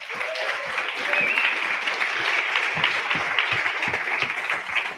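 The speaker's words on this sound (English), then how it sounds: "Let's give him a round of applause." Audience applause at a political town hall meeting in Rocky Mountain House, Alberta, a steady dense clapping from a sizable crowd lasting several seconds with faint murmurs beneath.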